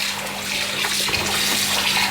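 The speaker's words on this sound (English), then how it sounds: "rinse out all this lemon water and vinegar water" Tap water runs steadily into a kitchen sink as cleaned mackerel is rinsed free of lemon and vinegar water, a continuous close splashing wash with no talk.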